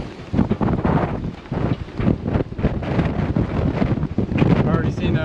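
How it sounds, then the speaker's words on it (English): Strong, gusting wind buffets the microphone aboard a sailboat on a passage from Carrabelle to Tarpon Springs, Florida, a loud continuous roar with surging gusts and faint voices in the background. "Well, the winds just keep growing and growing."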